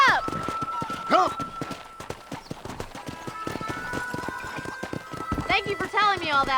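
A horse gallops in Red Dead Redemption, rapid rhythmic hoofbeats pounding steadily and close throughout, with a brief whinny and someone shouting and talking over the running.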